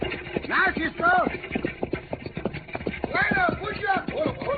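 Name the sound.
horses galloping, old time radio sound effect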